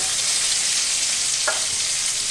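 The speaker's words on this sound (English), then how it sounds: "Sizzle!" Steady, bright sizzle of peppers and onions frying in oil in a pan over high heat, a continuous crackling hiss with a brief clink midway.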